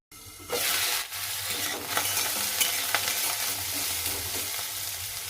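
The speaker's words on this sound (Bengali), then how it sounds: "মূলোটা একটু ভাজা ভাজা করে নেব, একটু ঢাকা দিয়ে দেবো অল্প" Radish pieces fry in a pan, giving a steady, close sizzle with scraping clicks from stirring throughout.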